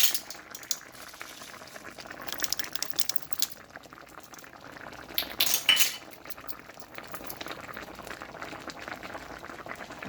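Bringhe mixture of chicken and sweet rice bubbling in a pot, a continuous soft boil with scattered clinks of a metal utensil against the pot and a louder clatter midway.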